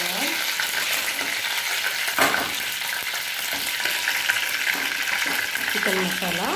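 Curry leaves dropped into hot oil while making dry masala chicken kebabs sizzle loudly and continuously, with scraping strokes of a spatula stirring the pan.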